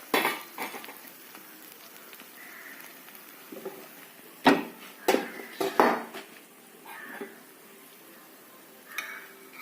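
Steady soft sizzling of an egg frying sunny-side up in a pan, broken by a few sharp clinks and scrapes of utensils against metal.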